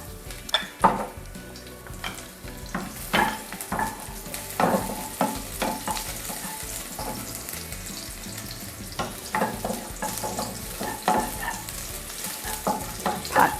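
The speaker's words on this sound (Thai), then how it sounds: "กระทะร้อนแล้วนะคะ กระเทียมสับค่ะใส่ลงไปเลย" Minced garlic sizzles and fries in a hot pan for pad see ew, with irregular scraping and clinking of a utensil stirring, close and continuous.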